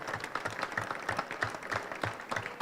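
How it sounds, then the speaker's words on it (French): Audience applause at an industry trade fair round-table inauguration, a steady patter of many clapping hands lasting throughout, moderately loud and fairly close. "Et on peut les applaudir."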